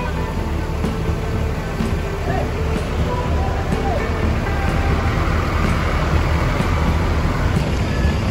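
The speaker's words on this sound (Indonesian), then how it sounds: "Bus dari Sahala Bosku ini udah mulai diberangkatkan satu per satu." Buses pulling out one by one from a busy Muria bus terminal at night, a steady low engine rumble and traffic roar filling the whole stretch, with people talking in the background.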